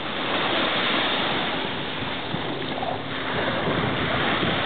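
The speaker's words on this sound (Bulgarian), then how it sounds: "тук една вълна ме удари точно в момента" Broad rushing surf of Caribbean Sea waves washing onto the shore in Mexico, steady and fairly loud with wind buffeting the microphone, no talking.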